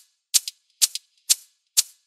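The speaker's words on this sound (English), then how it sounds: "I also got an additional shaker doing like a different rhythm" Layered shaker samples in a house track tick out a steady pattern of crisp, bright shakes, four even bursts each with a quick double accent, played alone without voices.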